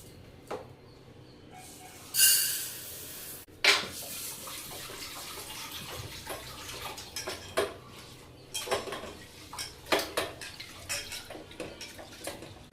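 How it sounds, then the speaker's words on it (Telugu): Moong dal being washed in a metal vessel, with splashing water, sloshing and scattered clinks of the pot, close and irregular, without speech. "నేను పప్పు కడుక్కోవడం అయిపోయిందండి."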